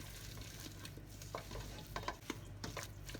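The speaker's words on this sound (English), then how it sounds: "we put the coriander or parsley in them and mix it with it." Cooked potatoes being stirred together with chopped coriander or parsley, soft wet scraping and mashing sounds in short irregular strokes, close up with a low steady background hum.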